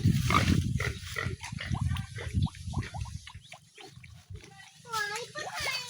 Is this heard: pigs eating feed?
yes